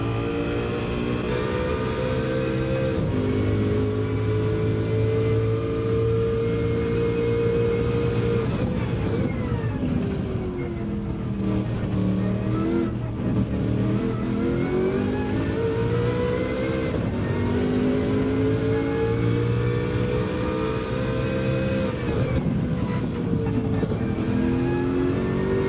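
A Sauber race car in Gran Turismo 7, lapping Circuit de la Sarthe at Le Mans: a continuous engine whine rises and falls with gear changes and throttle, its pitch sweeping steadily up and down at a constant close-up loudness.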